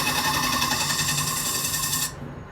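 A wooden cup turning on a Japanese-style lathe with a slightly dull tool taking very fine cuts gives a steady buzzing, whirring hum for about two seconds, then stops abruptly, leaving a quiet tail.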